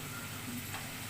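Greens stalks and potatoes, salted, fry in a pan with a soft, steady, faint sizzle over a brief moment, with no talking.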